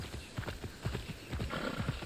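Hooves clip-clop in quick, steady rhythm as a horse is ridden in the video game Immortals: Fenyx Rising, each beat crisp and close in a brief run.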